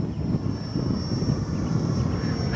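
A Freewing English Electric Lightning RC jet cruises at half throttle, its steady rushing whine continuous and fairly loud through the short stretch, without speech.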